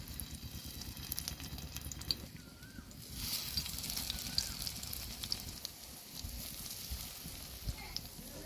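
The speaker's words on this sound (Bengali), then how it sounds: "পাতুরিগুলো ভাজার জন্য আমি তাওয়া চাপিয়ে দিলাম, তার মধ্যে তেল দিয়ে দেবো। সরষের তেলে ভাজবো" Lentil paturi parcels wrapped in pumpkin leaves fry in hot mustard oil on a griddle, giving a steady, close sizzle with faint crackle throughout, with kitchen noise and no talk.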